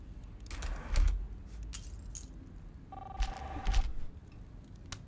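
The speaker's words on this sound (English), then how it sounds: "Oh, throw the keys." Keys tossed in the game Life is Strange give a few short metallic jingles and a clatter, with bright chiming accents and a steady electronic tone partway through, heard alone with no talk.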